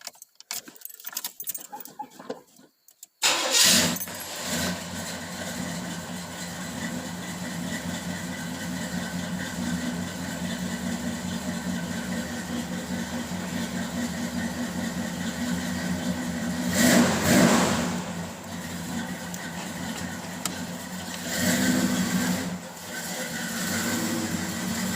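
A 1981 Chevrolet Monte Carlo with a 355 engine cold-starts after a jingle of keys, then settles into a loud, steady idle close by, with two brief revs rising over the rumble.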